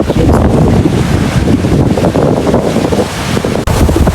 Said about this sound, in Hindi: हिकिड़ो मिंट सुकून सां तव्हां नदी जी आवाज़ खे ॿुधो सुकून सां